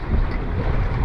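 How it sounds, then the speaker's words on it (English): Wind roars steadily over a fishing boat crossing a channel off Ocean City, Maryland, on a blustery April day: a loud, continuous rush of buffeting gusts close to the microphone. "this wind is blowing us across this channel pretty quick"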